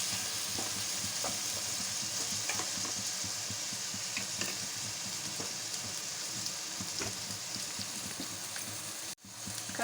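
A mixed vegetable curry fries in oil after chili powder goes in, a steady soft sizzle with occasional scraping stirs and light taps of a spoon, ending in a brief sharp knock.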